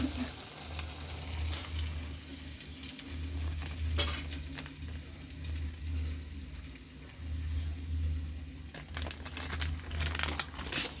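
Garelu (urad dal vada) batter slid off a plastic cover into hot oil, frying with a steady crackling sizzle and occasional crinkly handling sounds, continuous and close throughout.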